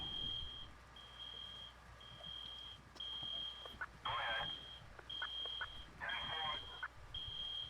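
Fire alarm in a Montana Mod video game scene at a bank fire, a steady repeating high-pitched beep in regular pulses under faint background game noise, with brief bursts of other sounds.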